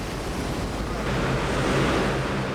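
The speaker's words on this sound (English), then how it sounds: "Finally, the wind peaks at an astonishing 161 miles per hour" A giant fan generates extreme wind of about 161 mph, producing a continuous, loud, roaring rush of buffeting noise that swells slightly midway through without any break.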